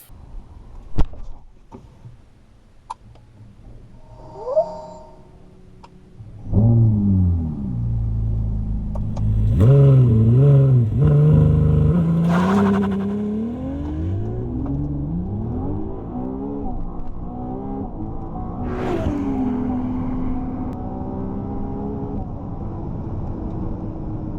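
A Ferrari 296 GTB hybrid sports car drives and accelerates, its engine note rising and falling through several revving sweeps after a quieter start, loud and close with a steady rumble beneath.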